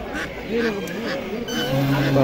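Young ducks or goslings quack in short, repeated nasal calls at a busy poultry market in Naogaon, heard fairly close while people talk in the background.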